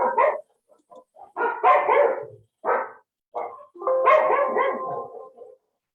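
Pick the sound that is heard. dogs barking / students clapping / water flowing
dogs barking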